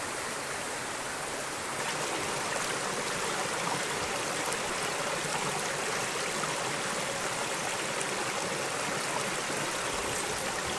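Continuous rushing and babbling of a stream, steady and fairly close, with no voices over it.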